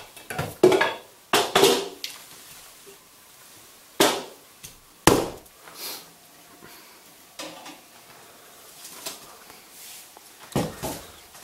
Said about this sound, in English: this is a hatchet, not used for chopping wood, but for splitting kindling